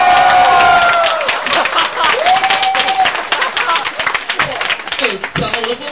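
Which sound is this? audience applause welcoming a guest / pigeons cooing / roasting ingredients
audience applause welcoming a guest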